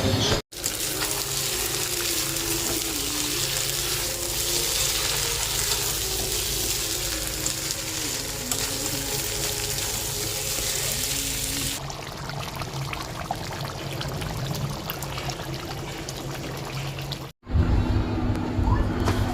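Tap water running steadily in a home kitchen sink while food is washed, a loud continuous gush that shifts in tone partway through and cuts off briefly near the end.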